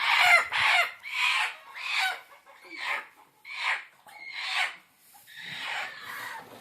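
A broody village hen sitting on eggs makes a series of about seven harsh, raspy clucking calls in an uneven rhythm, close and fairly loud against a quiet background.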